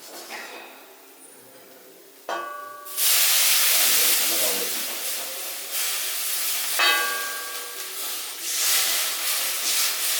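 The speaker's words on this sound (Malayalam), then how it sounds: "ഇതൊന്ന് നല്ലതായിട്ട് മിക്സ് ആക്കി എടുക്കണം" Water chestnut curry gravy bubbles in a pan, a hissing, rubbing wash of stirring that swells loudly after a quieter start with faint clinks, and a short catch of voice early on.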